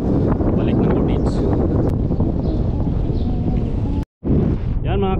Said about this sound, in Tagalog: malakas ang hangin pabalik. Malakas ang hangin.